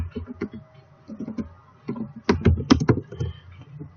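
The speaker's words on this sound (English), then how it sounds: "you're going to want to type in semester total right here" Close computer-keyboard typing while entering text into an Excel spreadsheet: quick bursts of crisp key clicks separated by short pauses, with no speech.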